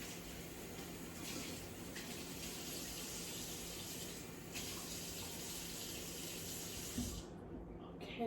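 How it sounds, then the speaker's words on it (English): Water runs steadily from a sink faucet as something is rinsed out, a continuous close splashing stream that stops abruptly near the end. "Let me rinse this out."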